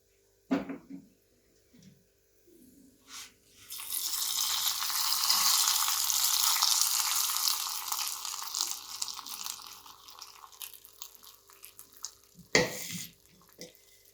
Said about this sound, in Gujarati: આમાં આપણે વઘાર એડ કરી લઈશું